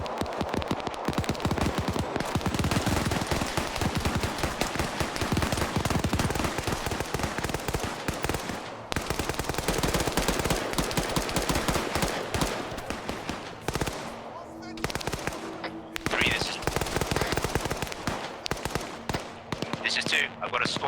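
Rapid machine gun fire in a military shooter video game, dense continuous bursts of loud sharp shots with brief pauses, punctuated by heavier blasts.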